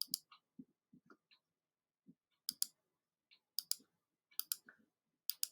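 Calculator keys being pressed in short irregular bursts of crisp clicks, close and alone in an otherwise quiet room, with gaps between keystrokes.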